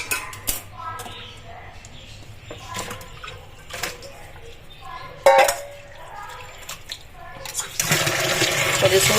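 Water splashes and swirls in a metal pot as goat intestines are rinsed with hot water, with occasional clanks, ending in a louder rush of pouring water.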